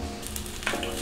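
Vegetables cooking in a pan over low to medium heat give a steady soft sizzle and crackle, with a light scrape of stirring partway through.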